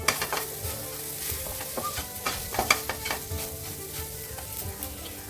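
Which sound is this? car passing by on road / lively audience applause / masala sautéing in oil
masala sautéing in oil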